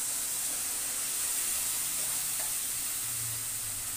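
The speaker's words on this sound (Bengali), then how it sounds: "মশলাটা কষানো হয়ে গেছে, আমি এবার ডালটা একসাথে দিয়ে দেবো।" Lentils are added to a pot of sizzling, well-fried spice paste of cumin, ginger, tomato and green chilli for khichuri, producing a dense, even hiss with faint stirring scrapes and no voices.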